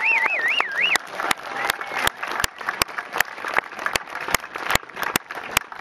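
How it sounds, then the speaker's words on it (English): At a rocketry competition award ceremony, a crowd applauds the sponsors, hands clapping loudly and rhythmically while a faint tonal warble sounds at the start. "Let's give our sponsors a big round of applause."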